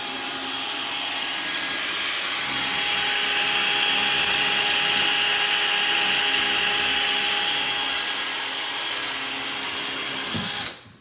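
A DeWalt battery drill bores a pilot hole during a home renovation, its steady high whine running unbroken for about ten seconds before winding down abruptly, close and loud with no talk.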